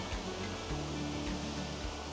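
Rouken Glen waterfall in Glasgow pours in a dense, steady rushing roar that fills the whole stretch, loud and close with no pause.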